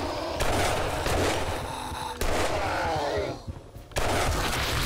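Loud gunshots in the video game 7 Days to Die, several sharp blasts spaced a second or two apart, each with a ringing tail, one landing after a brief quieter gap.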